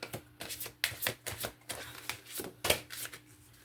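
Tarot cards being shuffled by hand in a series of quick riffling bursts with brief pauses between, close and fairly quiet, with no talking.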